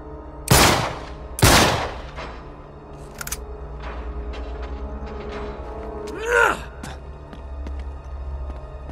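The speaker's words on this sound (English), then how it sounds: "Back up, I'll shoot the lock." Gunfire in the video game Uncharted 3 as a lock is shot off: two loud, close, sharp blasts in quick succession, followed by quieter clatter, a brief grunt-like vocal sound and low background rumble.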